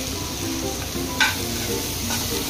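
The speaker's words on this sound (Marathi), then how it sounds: "नुसती फक्त तेलावर फ्राय करत राहायचे." Food frying in oil in a pan keeps up a steady, close sizzle, with a brief louder crackle or stir partway through and no talking.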